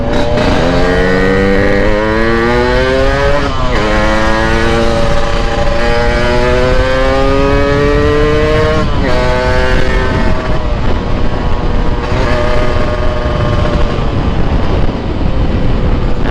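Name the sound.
motorcycle engine revving in a crowded place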